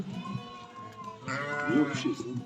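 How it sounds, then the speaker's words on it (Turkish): A pregnant sheep bleats twice in a wavering, nasal cry, close by, with a person talking quietly around it. "Bu koyun kuzulamamış."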